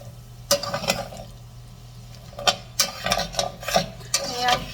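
Igado is stirred and mixed in a pan, with sharp clacks and scrapes of a utensil in uneven bursts over a low sizzle.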